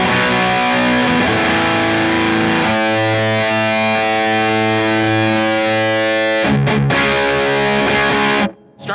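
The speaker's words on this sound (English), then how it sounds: "turn it up with the distortion on" A heavily distorted electric guitar through a Bootlegger Guitar Blues 15/30 tube amp rings out with sustained, buzzing chords, loud and saturated, with a brief cut near the end.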